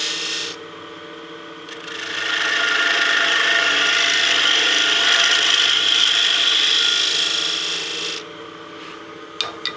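Spindle gouge cutting a bead on a wooden workpiece spinning on a lathe: a steady, hissing scrape of the tool against the turning wood, rising for several seconds and then stopping abruptly, with small clicks after.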